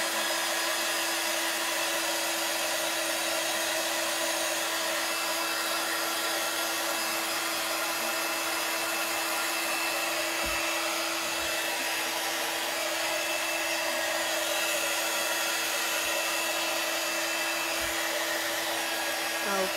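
A hair dryer blows steadily and loudly at close range for the whole stretch while drying a glass jar being altered as a craft project, with a constant whirring hum and no talk.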